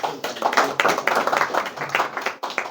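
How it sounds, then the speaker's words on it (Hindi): A classroom of students clapping loudly for a classmate, dense rapid hand claps of a group, close and sustained throughout. "जोरदार ताली बजाओ पहले।"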